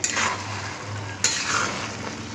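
Grated coconut mixed with cardamom being stirred in a pan, wet scraping strokes over a soft steady sizzle, close and fairly loud with no talking.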